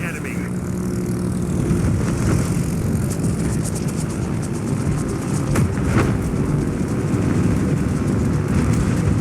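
Aircraft carrier planes droning overhead in the naval game World of Warships, a continuous loud engine roar with rumbling battle noise and a few sharp bursts, a voice talking over it.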